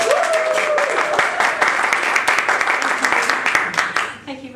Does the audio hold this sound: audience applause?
yes